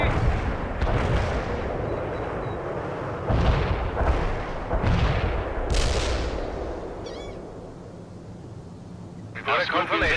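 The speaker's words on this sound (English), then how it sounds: "Need some medium artillery?" Medium artillery fire in the strategy game World in Conflict, a string of heavy booming blasts rolling in close succession over a loud rumbling battlefield, with radio-style voice chatter mixed in.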